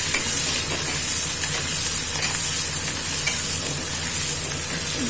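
Oil sizzles loudly and continuously in a pan while frying for a mourala fish curry, a dense, even hiss close up with faint stirring underneath and no pauses.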